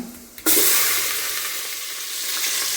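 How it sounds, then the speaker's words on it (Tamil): A small amount of fenugreek seeds drop into hot oil in a pan for a fish kuzhambu, bursting into a sudden loud sizzle that holds steady and strong to the end. "இந்த பாத்திரத்தில் இப்போ கொஞ்சமாக வெந்தயம் போட்டுக்கலாம் வெந்தயம் நல்லா பொரியட்டும்"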